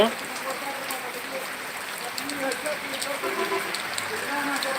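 Heavy rain falls steadily, a diffuse hissing patter with scattered drops on surfaces, fairly constant throughout and heard at moderate distance.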